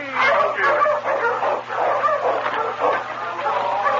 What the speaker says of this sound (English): The team was lined up, and he started out of greeting. On, King! On!